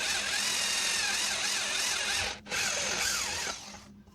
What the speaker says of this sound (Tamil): மார்க் பண்ணிட்டு ட்ரில்லிங் மிஷின் வச்சு